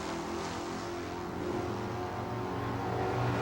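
Drag race cars, including a 1969 Camaro, run down the strip at an NHRA Sportsman All Stars event, a loud, steady engine roar that holds throughout and swells slightly toward the end.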